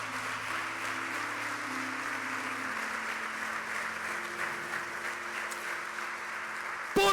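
A church congregation claps in sustained, even applause throughout a worship service, with a steady low tone underneath and a sharp knock right at the end.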